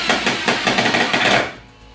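A cordless screwdriver drives 70 mm self-tapping screws, giving a loud, close burst of rapid rattling clicks from the clutch and impact for about a second and a half before cutting off abruptly.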